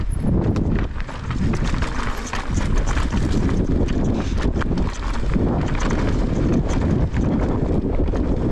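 Strong wind gusting against a GoPro camera fitted with a windscreen during a sunrise bike ride on Madeira, a loud, constant low rumble and buffeting that swells and dips slightly throughout.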